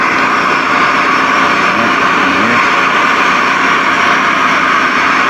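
A steady, loud roaring hiss of a camping gas stove burner, Jetboil-style, running at full flame on the ice, constant and unbroken throughout with a low rumble underneath.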